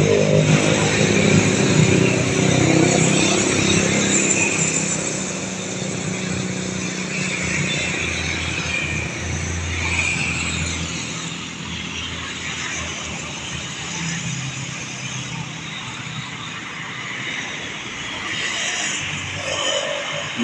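A Makmur bus heading toward Medan on Sumatra's eastern highway, two days after Lebaran, passes with a steady engine roar and road rumble, loudest at the start and then settling into a continuous drone.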